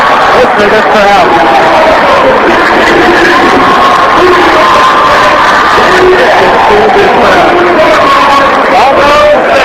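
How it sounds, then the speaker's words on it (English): Crowd roaring and cheering at a high school basketball super-sectional after the home side clinches a 62-48 win, loud continuous whoops and yells with a sports announcer talking over the din. "Listen to this crowd."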